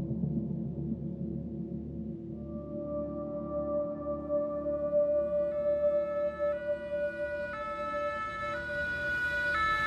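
Firefighters' emergency siren approaches at a port during a sea rescue: a steady wailing tone starts low and rises in pitch, getting clearer and more tonal as it draws nearer, with a low engine rumble underneath.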